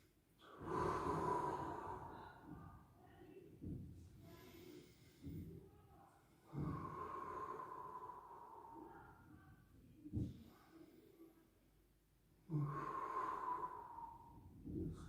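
Deep breaths during a chest-muscle exercise class, with long audible inhales and forceful exhales repeating every few seconds, close and moderately quiet, with soft movement noises between.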